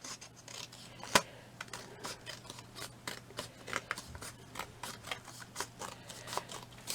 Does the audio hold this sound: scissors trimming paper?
yes